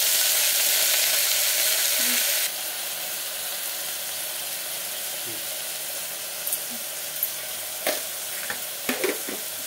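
Curry leaves, green chillies and chopped tomatoes frying in a pan for a millet coconut milk pulao, a loud dense sizzle that drops to a softer steady crackle, with a few clinks and scrapes of stirring near the end.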